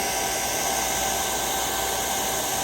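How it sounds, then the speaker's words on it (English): A hair dryer blows steadily and loudly, a constant broadband whoosh with a motor whine that runs unbroken throughout. "Yeah, I got a hair dryer"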